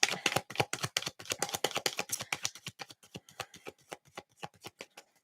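Black cat tarot deck riffled and shuffled by hand, a fast run of crisp card slaps that slows into separate flicks toward the end, close and fairly quiet with no talking.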